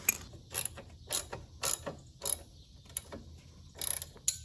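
A wrench clicks as it snugs engine guard bolts on a Royal Enfield Classic 350, giving a quick run of close, crisp ratcheting clicks in short bursts with brief pauses between strokes.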